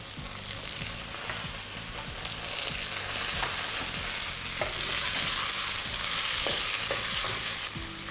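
Tomatoes sizzle and fry steadily in a hot pan, with a continuous crackling hiss and occasional stirring clatter throughout.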